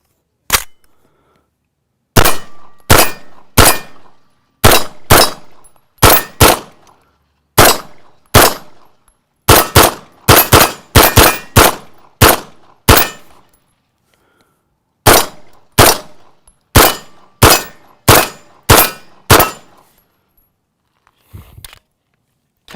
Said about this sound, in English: So let's run a couple rounds and I'll tell you what I think